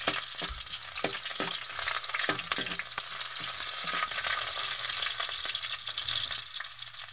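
Garlic sautés in oil in a wok, a continuous close sizzle broken by several sharp scrapes and clinks of a spatula stirring, with no talking.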